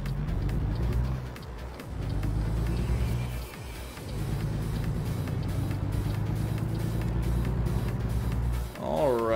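A simulated truck engine in American Truck Simulator rumbles low and steady, dipping and changing pitch as gears shift, under someone talking.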